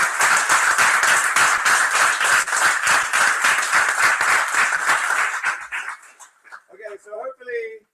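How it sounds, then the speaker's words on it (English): Startup weekend audience at the final pitches gives a dense, lively round of applause for the presentations, steady clapping that fades out toward the end as a few voices come through. "give yourselves a huge round of applause for some fantastic presentations"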